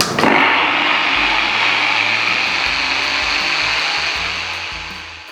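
A mixer grinder whirs as it blends homemade mayonnaise with added oil: a steady, loud motor whine that starts abruptly and runs continuously, fading slightly near the end, with no talking.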